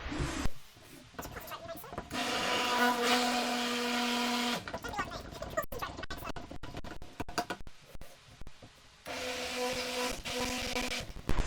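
Stick blender whirring in a cup of soap batter, a steady motor hum in two bursts separated by a few seconds of clicks and handling, with a person talking quietly.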